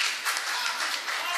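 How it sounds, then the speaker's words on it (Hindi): Steady crowd applause at a Hindi poetry gathering (kavi sammelan and mushaira), a dense wash of clapping hands that holds at an even level throughout. "एक बार जोरदार तालियां होनी चाहिए"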